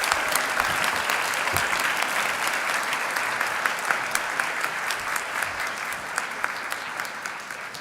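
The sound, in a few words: audience applause at commencement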